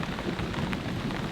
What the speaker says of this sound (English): the rain is coming down good again